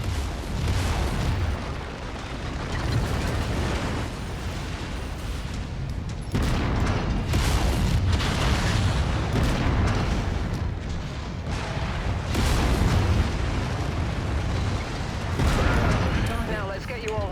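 Repeated heavy explosions and booming blasts from mech combat in MechWarrior 5: Mercenaries, a dense, continuous barrage of bursts with sharp cracks recurring every second or two over a loud rumbling bed, with voices audible intermittently underneath.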